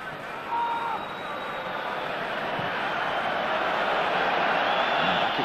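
A football stadium crowd at a Champions League semi-final between Liverpool and AS Roma voices its displeasure in a sustained, rumbling roar of massed voices, with whistles and murmurs that grow slightly louder toward the end.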